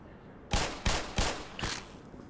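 Four sharp gunshots ring out at a steady pace in the Black Mesa shooter game, loud and close, with no talking over them.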